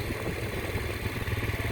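Dirt bike engine running close by, a steady throbbing mid-pitched putter with rapid rhythmic pulses and slight clatter, heard alone for a short stretch.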